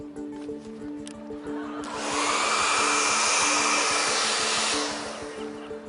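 A hair dryer blows on a phone wrapped in a towel, a loud steady whoosh that swells in and holds for several seconds before easing off, with a faint background hum.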